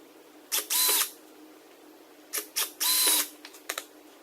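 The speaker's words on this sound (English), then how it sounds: "I'm going to go ahead and drill this piece out first." Power drill boring holes in a homemade GoPro shoulder mount, two short bursts with whining motor spin-up, then a pause and a second cluster of bursts, close and alone in a quiet room.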